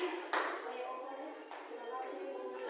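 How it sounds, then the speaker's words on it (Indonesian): Applause breaks out in a classroom, a short burst of group clapping that quickly fades under a steady murmur of background noise. "Tepuk tangan untuk Maya."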